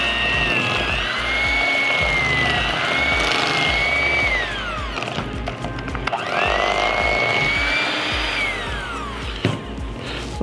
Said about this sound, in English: Blend it a little bit.